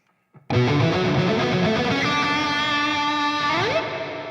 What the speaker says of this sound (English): It's a pretty bright sounding reverb